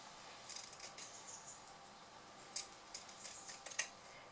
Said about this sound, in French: Maintenant je prends mes ciseaux cranteurs et je vais contourner toute la forme, tout ce que j'ai cousu